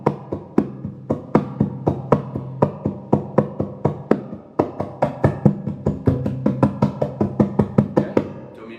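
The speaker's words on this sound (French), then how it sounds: "ça c'est le son de l'ampli" A Maton EMS/6 acoustic guitar heard through an amplifier is strummed in a steady rhythm of sharp, percussive strokes, loud and close, with a few brief pauses between bursts.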